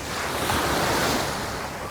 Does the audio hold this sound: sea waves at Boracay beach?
yes